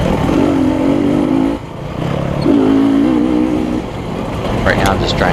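Dirt bike engines rumble close behind during a motocross race at LaCygne, Kansas, a loud buzzing drone that dips briefly and then rises again, with a higher revving whine near the end.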